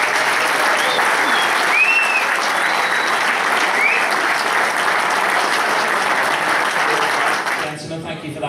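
An audience at a fundraiser gives loud, sustained applause to welcome a guest, a dense wall of clapping with faint whistles and cheers, then an abrupt drop at the end.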